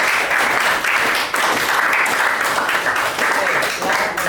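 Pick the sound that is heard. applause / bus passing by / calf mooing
applause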